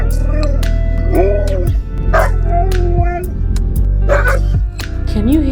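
Dogs vocalize in drawn-out, wavering howls and yips that mimic the rhythm of human speech, several close, loud phrases in a row.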